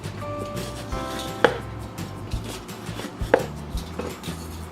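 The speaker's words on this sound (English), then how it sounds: "I just take it from the bottom and work to the top, just to kind of slice down each of these little ridges" A knife slices a pepper on a cutting board for chili, giving a steady series of soft close chops, with two sharper knocks standing out among them.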